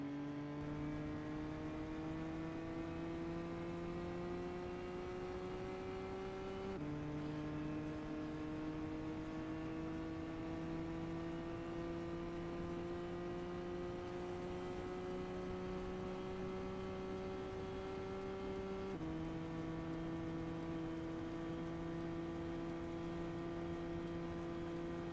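Nissan GT-R Nismo 2014 engine held at full speed in Gran Turismo 6, a steady loud high-revving drone with two brief dips as gears shift, rising slowly in pitch throughout with no talk.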